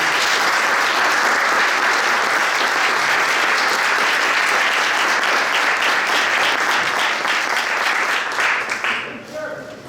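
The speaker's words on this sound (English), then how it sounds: "So put your hands together for Mr." Audience at a Syracuse men's hockey hall of fame induction ceremony applauding steadily in a dense, loud wash of clapping that tapers off near the end.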